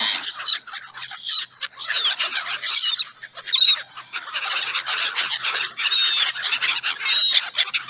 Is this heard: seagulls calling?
yes